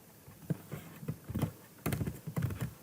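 Typing on a computer keyboard while entering code, a close run of quick clicking keystrokes in uneven bursts with a brief pause in the middle.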